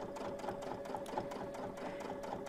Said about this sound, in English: I'm going to put my needle really close to that edge and just get a really slow stitching there